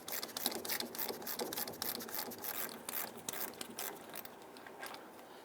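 A ratchet keeps turning to back out the lower brake caliper bolt on a 2000-2006 Toyota Tundra, making a dense, continuous rasping click of rubbing metal up close, with no voices.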